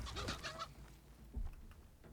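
A chicken clucks in the video game RS Dragon Wilds, a quick burst of faint squawking clucks at the start, then a soft thud and low background with no talk.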